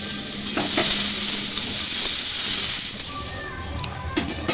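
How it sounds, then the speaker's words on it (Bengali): Shukto vegetables with fried potatoes being stirred in a sizzling pan, a steady hiss of frying broken by a few scraping strokes of the spoon, close and continuous with no talk. "কিছুক্ষণ পর ঢাকা খুলে আরও ভালো করে আমি নেড়ে নিচ্ছি।"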